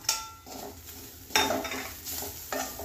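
Spoon stirring turmeric and red chili powder as they sauté in a hot pan: a steady sizzle broken by three louder scraping bursts of stirring, close and fairly loud, with no talking.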